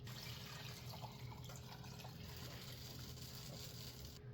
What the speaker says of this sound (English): we're gonna throw in all that Squirtle stock from earlier